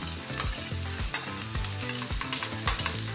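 Steady loud sizzling of a tadka, ginger-garlic paste, green chillies and onions frying in hot oil, with a musical tune playing throughout and occasional stirring clatter.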